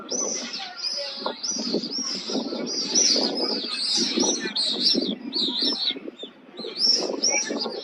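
Birds in Supetar, Croatia, chirp and twitter in busy overlapping calls, with lower pigeon-like cooing beneath, steady and fairly close throughout.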